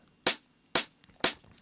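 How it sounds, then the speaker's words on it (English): A high-passed hi-hat layer for an afro house beat, with the mids removed so only the highs remain, plays three crisp, airy hits about half a second apart, each ringing slightly longer than a closed hat before decaying. "It's just a bit of a longer hi-hat."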